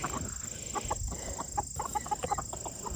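Several chickens on a homestead cluck and murmur nearby in a busy, overlapping chatter over a steady background hiss.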